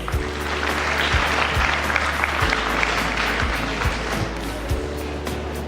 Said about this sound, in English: Akdas Ahmed, a huge round of applause for him